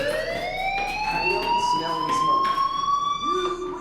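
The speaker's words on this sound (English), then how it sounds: "do you hear that fire alarm?" A fire alarm rings in the video game Life is Strange: a loud, steady electronic tone with rising pitch, sounding continuously for several seconds with no talk over it.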